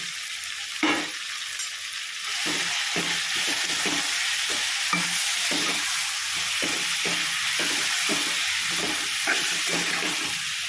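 Tomatoes sauté with chili powder, turmeric, salt and spices in a hot pan. The sizzle is loud, close and continuous, broken by a steady series of spoon scrapes as the mixture is stirred.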